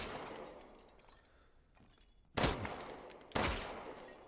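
Two loud gunshots ring out in Resident Evil Village as a vase is shot, each a sharp blast about a second apart after a quiet stretch of game ambience.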